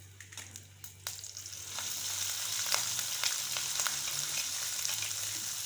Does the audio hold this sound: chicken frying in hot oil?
yes